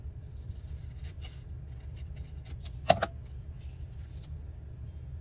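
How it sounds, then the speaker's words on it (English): Scissors cut through fabric in a quiet room, giving short soft snips and rustles with a couple of sharper closes near the middle. "I'm just going to use my scissors and cut that down"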